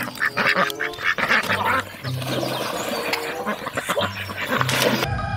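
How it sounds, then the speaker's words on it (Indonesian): A toy or real duck quacks in short repeated bursts amid loud, cluttered play noise and rustling, with other animal-like calls mixed in. "di sini ada bebek."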